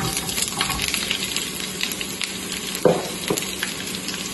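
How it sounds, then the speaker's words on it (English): Vegetables fry in heated oil for shrimp skewers, a constant close crackling sizzle with a couple of faint clinks partway through and a brief word spoken. "So we're just going to fry these until they're golden brown."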